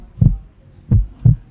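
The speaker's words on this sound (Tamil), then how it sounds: "ஹார்ட் பீட் கேட்டுச்சா? எஸ், அது ஹியூமன் ஹார்ட் பீட் கிடையாது." Three deep, thumping heartbeat pulses, loud and close, the first two spaced widely and the last following sooner, with quiet low hum in between.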